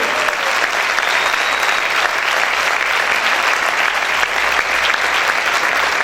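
Church audience applauding loudly for several seconds, a dense, sustained wash of clapping from a large crowd.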